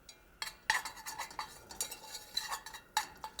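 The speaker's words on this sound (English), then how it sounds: "we're going to continue just to cook them, stir them around so that we fry the flour" Flour-coated mushrooms stirred in a pan, with a utensil scraping and clinking against the metal in irregular strokes, close and fairly quiet, and a soft sizzle beneath.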